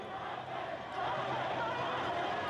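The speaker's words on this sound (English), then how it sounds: "Crowd of protesters swelling by the minute in Hong Kong, stepping up their calls for democracy." A large crowd of pro-democracy protesters in Hong Kong, heard as a steady, dense wash of distant massed voices and chanting that grows slightly louder partway through, with no single voice standing out.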